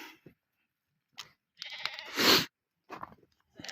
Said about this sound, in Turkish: Şimdi koyunu kuzulu çekiyoruz. Bunlar doğum yapanlardır.